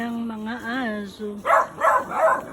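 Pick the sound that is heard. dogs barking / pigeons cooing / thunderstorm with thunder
dogs barking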